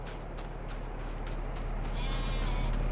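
A flock of sheep on a Farming Simulator 22 farm bleats over a constant low machine hum, with a few overlapping calls that grow clearer and louder toward the end.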